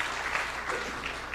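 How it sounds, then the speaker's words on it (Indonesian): A church congregation claps together at a worship service, dense sustained applause with rhythmic swells, fairly close and loud, with a faint voice underneath. "Beri tepuk tangan yang meriah buat Tuhan."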